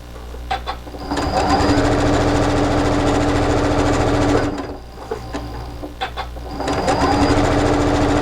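Rapid mechanical whirring of a sewing machine stitching quilt fabric blocks together in two long runs separated by a brief pause, close and prominent with faint handling noise.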